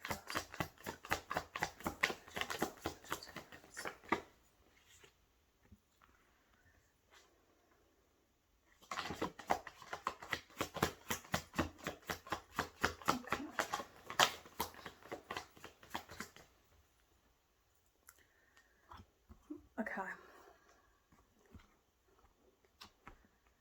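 A deck of tarot cards is shuffled close by in two long, quiet bursts of rapid riffling, with soft handling noises in the pauses between them.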